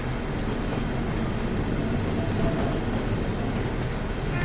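A DB Vossloh G6 shunter locomotive running past Hagen Hauptbahnhof in Train Sim World 2, a loud, steady rumble of engine and rolling wheels with faint rail clatter, continuous throughout and with no talking.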